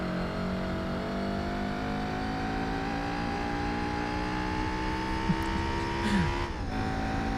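A Honda Civic engine in Gran Turismo 4 holds a high, buzzy, bee-like drone as it revs steadily, then drops in pitch near the end during a gear change, with a faint tire squeal.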